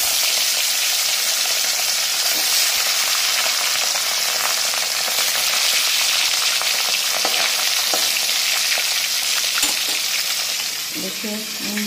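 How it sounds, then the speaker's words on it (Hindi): Rohu fish pieces fry steadily in hot oil over a low gas flame, giving a dense, continuous sizzle with occasional crackles and a brief stir of the pan near the end. "इसी तरह से दोस्तों हम सारे मछली को हम फ्राई कर लेंगे।"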